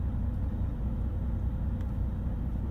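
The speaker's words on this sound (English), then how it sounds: "Likewise, pause, red light on, drum spin goes down." Hymix Mixmaster concrete mixer truck drum slowing after being paused, heard as a steady, loud, low mechanical rumble that holds throughout without any talk.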